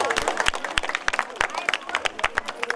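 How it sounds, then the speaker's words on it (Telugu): An audience claps at a local community function, a brisk run of uneven, fairly close hand claps with crowd murmur and voices underneath. "నిజంగా దానికి గట్టిగా చప్పట్లు కొట్టాలి సార్"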